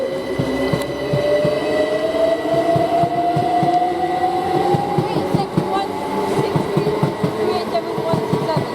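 A Great Western Class 800 train, unit 800313, departs Didcot Parkway for London, its motors whining as the pitch climbs steadily over a rhythmic clatter of wheels on rail joints, loud and close.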